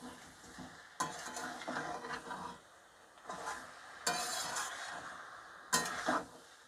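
A spoon stirs fried jackfruit and potato with spices in a pan, scraping and clinking against the metal in three distinct bursts separated by quieter moments, with a faint sizzle underneath and no talking.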